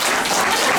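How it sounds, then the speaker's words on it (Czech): Children in a kindergarten clap together at a Mother's Day celebration, a short, dense burst of steady group applause throughout. "zatleskáme."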